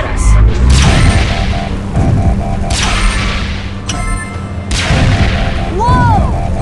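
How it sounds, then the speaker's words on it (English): Booming game gunfire aimed at the player in Transformers Rescue Bots video game, a volcano lava mission: several heavy shot blasts with mechanical clatter and whooshing effects over background game music. "Watch out! They're shooting at us!"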